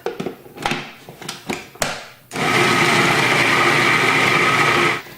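A food processor blending ranch dip ingredients with Hidden Valley Ranch dressing dip mix: several close clunks and taps as it is set up, then a loud, steady high-pitched motor whir that runs for about three seconds and cuts off.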